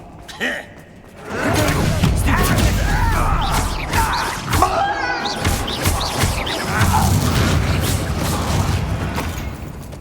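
A Confringo fire spell bursting in the Hogwarts Legacy video game: a loud, sustained explosive roar and crackling debris with thuds, clanks and game effects layered over several seconds, with a voice gasping and reacting.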